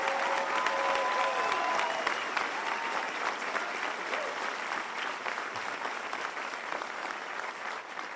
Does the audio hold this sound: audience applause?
yes